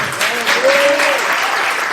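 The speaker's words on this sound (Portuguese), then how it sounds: "Aplauda ao Senhor." A church congregation at a Portuguese-language service bursts into loud, close applause for a couple of seconds, with a voice rising briefly over the clapping.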